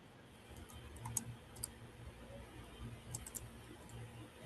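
Quiet, irregular keyboard typing: light clicks and taps in small bursts over a soft background hum, heard nearby with no talking.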